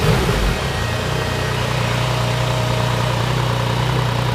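A Yamaha FJ-09 motorcycle engine idles close by with a steady, loud rumble, opening with a brief blip of the throttle before settling back to a smooth idle.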